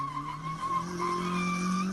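Tires screech in a sustained skid as a car driven by a drunk police officer loses control in a crash, a continuous squeal with shifting pitch lasting throughout, loud and close, no voices over it.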